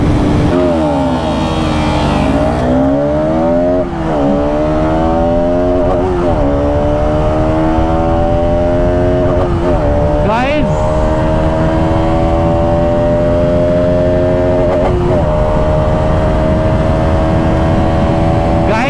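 A Bajaj RS200 with a 36-tooth sprocket and a KTM Duke 250 racing at speed: a loud, steady engine drone climbing in pitch through repeated gear shifts, with brief dips at each change and wind rush throughout.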